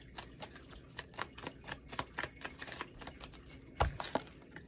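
Oracle cards are shuffled close by, a quick run of soft, regular riffling flicks ending in a couple of sharper slaps, with no talking.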